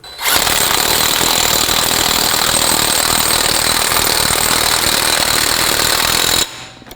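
A power tool tightens the front axle nut on a 2005-2010 Pontiac G6, running as one loud, continuous, close-up burst for about six seconds before cutting off abruptly, with no talking.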